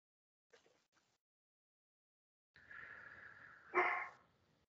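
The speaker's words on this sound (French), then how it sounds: "Il y a mon chien qui aboie." A dog barks once or twice nearby in a quiet indoor setting, a short sharp burst that follows a stretch of low breathy noise.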